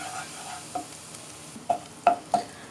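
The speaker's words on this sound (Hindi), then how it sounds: "ये देखें व्यूअर्स, ये हल्का सा फ्राई हो चुका है लहसुन।" Garlic lightly frying in a pan, a low steady sizzle under a few sharp clicks and scrapes of stirring, close and fairly quiet.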